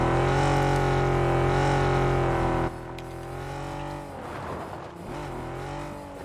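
A car in the PUBG video game roars along at a loud, steady engine pitch, then the sound drops and the engine whines and revs unevenly through shifts with no speech.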